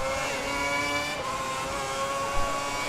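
Formula 1 car from F1 2010 lapping Monaco, a high steady engine whine with shifting harmonic tones held at close range throughout, with no talk.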